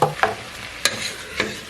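Beef and onion fry in a pan with a steady soft sizzle, broken by a few close scraping stirs of a spatula at irregular intervals.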